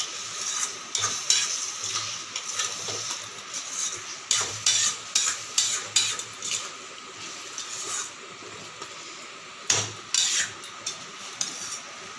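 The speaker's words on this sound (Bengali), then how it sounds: "চিনি দিয়ে ভালো করে নেড়ে নেব।" Amra (hog plum) pickle with sugar being stirred in a pan, a spoon scraping and clinking in repeated bursts over a steady low sizzle, close and fairly loud, with no talking.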